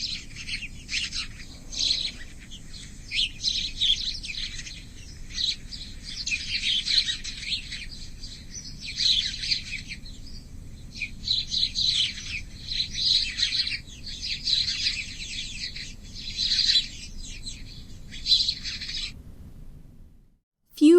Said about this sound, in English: These are house sparrows